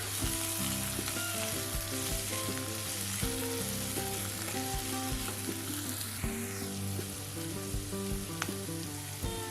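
Masala mixture for ladies finger rice fries in a pan, giving a steady, close sizzle with occasional stirring scrapes and clinks throughout, no voices.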